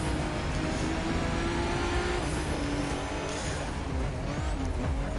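A Ford GT Le Mans race car in The Crew 2 video game drives at speed with a continuous, dense engine roar and road noise, steady and fairly loud throughout with no pauses.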